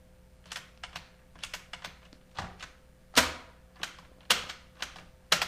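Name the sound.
pressing buttons on Panasonic RQ-2736 cassette recorder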